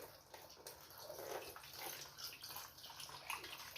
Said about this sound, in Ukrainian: Якщо не вистачає води, додаємо води.